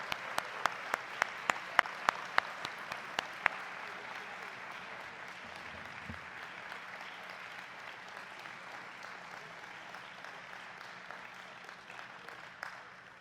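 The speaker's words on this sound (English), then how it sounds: "one more big round of applause to these American heroes" Audience applause for an honoree at a WWII Merchant Marine Congressional Gold Medal commemoration, a steady roomful of clapping with a few sharp, close individual claps early on, sustained evenly throughout and swelling slightly at the end.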